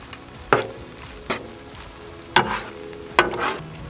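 Bacon frying on a Blackstone griddle, a low sizzle under four sharp scrapes or clanks of a spatula at irregular intervals, with no talking.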